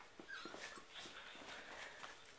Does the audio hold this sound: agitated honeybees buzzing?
no